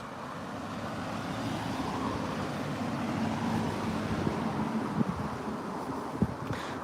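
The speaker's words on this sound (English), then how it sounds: "Apologies if you can hear the cars here." Steady road traffic noise from cars passing along a roadway, a continuous broadband rumble with a few brief louder swells as vehicles go by, heard outdoors during a walk.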